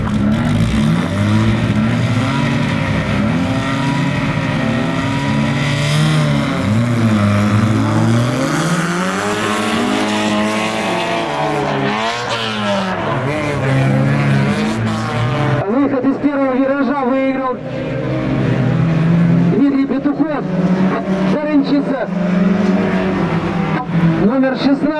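Rally cars roar through a winter auto show race heat at the Russian Winter 2022 event in Slobodskoy, engines revving and sweeping up and down in pitch as they pass, loud and close, with a voice heard at times.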